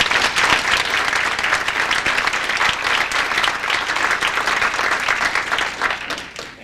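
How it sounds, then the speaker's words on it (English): An audience at a company all-staff meeting bursts into steady, dense applause that stays loud and even throughout, with no speech over it, tapering slightly only at the very end. "Let's have a nice round of applause for all of them."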